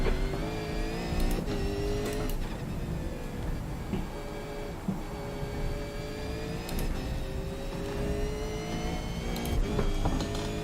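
A race car in a racing video game approaching and passing, rising and falling engine whine with gear shifts over a continuous loud engine drone, no talking.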